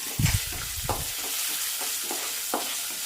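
Raisins roasting in a hot pan on the way to rava laddu, stirred now and then, giving scattered soft scraping strokes with a few louder stirs near the start over a faint, steady sizzle.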